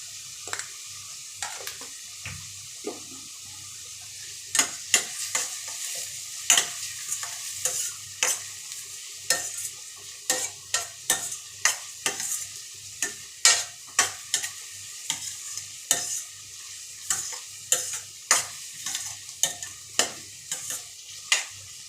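Onions frying in a pan with salt, a steady sizzle broken by repeated sharp scrapes and knocks of a spoon stirring against the pan, close and regular throughout, with no voices.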